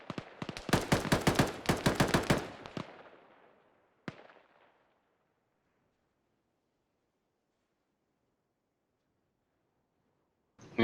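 Soldiers in the video game Arma 3 fire a rapid burst of automatic gunfire, a dense string of sharp cracks over about two seconds that trails into an echoing decay. A single isolated shot follows, and a final blast comes at the very end.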